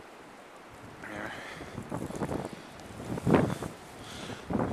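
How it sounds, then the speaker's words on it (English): Strong blizzard wind blowing snow against a house, gusting roar and rumbling microphone buffeting that swells in uneven surges, with a brief spoken word. "So we're going to get some dramatic wind here."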